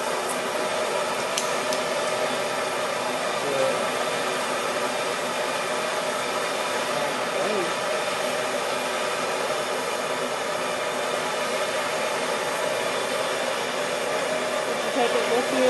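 A torch flame roars steadily inside a heat-treating forge while a knife blade heats, a constant broad hissing rush with no breaks, moderately loud and close.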